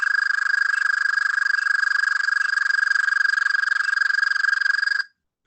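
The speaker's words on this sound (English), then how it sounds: "So it's a very loud trilling call for the toads." An American toad gives a loud, steady trilling call, one continuous rapid pulsing trill held for about five seconds before cutting off, close and alone with no talk.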